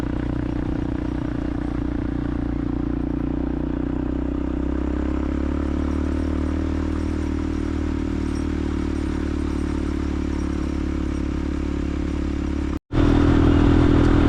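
A motorcycle climbs a mountain road through the clouds in the Dominican Republic, its engine droning steadily and close with wind and road noise, then a sharp momentary dropout before the engine note swells louder.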